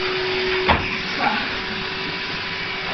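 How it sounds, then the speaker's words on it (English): A household vacuum cleaner hoovers steadily, a loud continuous whooshing drone with a whine underneath, with a couple of brief thumps as it bumps or sucks something up. "You're hoovering up that and all."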